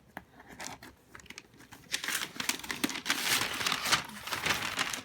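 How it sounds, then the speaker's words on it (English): Packaging being unwrapped from a cross-stitch frame, with crinkling and tearing of cardboard and wrapping that starts sparse and grows into a steady, busy rustle close by, with no talk. "I wanted to kind of unwrap it with you guys here so you could see how they actually package it"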